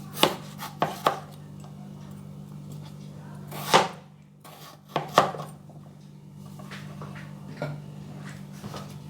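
Knife chopping raw green bananas on a cutting board: several sharp, close thuds in uneven bursts, with quieter gaps between cuts and a steady low hum underneath.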